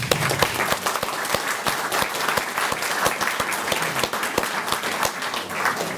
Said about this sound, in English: can I give a round of applause for Christy Ficker, please?